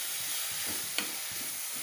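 Tomatoes fry in butter in a pan, a soft continuous sizzle with light stirring scrapes and a single sharp tap near the middle, close and steady without talk.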